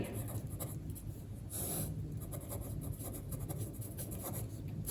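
Steady scratching strokes of writing on a board during a maths lesson on solving linear equations by elimination, continuous and close with short pauses between strokes, no talking.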